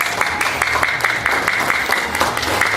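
An audience at an award ceremony in a national assembly library auditorium gives steady, even applause that continues for a few seconds, moderately loud with no talking.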